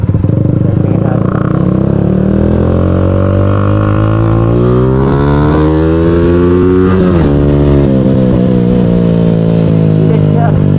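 A Yamaha Sniper 150 motorcycle with an upgraded ECU accelerates hard on a test ride, its engine note climbing through the gears with a brief shift dip, loud and close, with a rider's voice mixed in.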